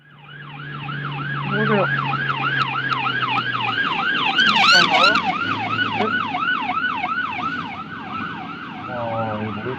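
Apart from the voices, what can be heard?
ambulance siren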